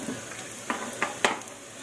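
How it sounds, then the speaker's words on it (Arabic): Lentils go into hot oil in a pan and sizzle softly, with a few short stirring scrapes and clinks standing out over the steady frying hiss. "هحط بقى العدس بتاعي اهو. هزود بس حبه زيت صغيره"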